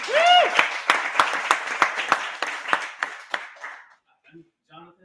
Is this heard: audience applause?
yes